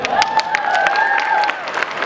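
Audience at a comic convention cosplay contest clapping and cheering loudly, a close, dense burst with a whistle-like tone running through it.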